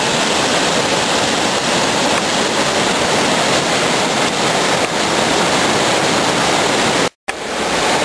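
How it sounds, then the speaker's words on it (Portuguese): Dense, roaring rush of falling water at Cachoeira da Gurita near the source of the Araguari River, constant and loud throughout, with a brief cut to silence near the end. "Queda de água"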